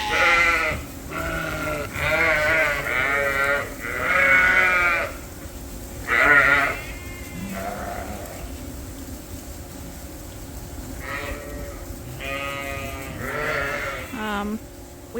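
Suffolk and Dorset sheep in a pen bleat repeatedly, with loud, wavering calls overlapping in bursts and quieter gaps of low background noise between them.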